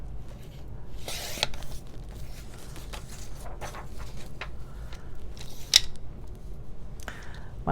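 Scissors cut through recycled card stock in a series of crisp, close snips and rustles, with paper handling between cuts and no talk.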